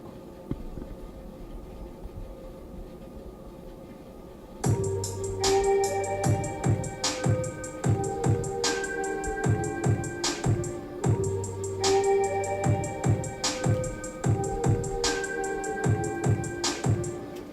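A hip hop beat with two hi-hat hits on every metronome click plays loud and close, a steady looping groove of kick, snare and doubled ticking hats that starts abruptly after a quiet stretch.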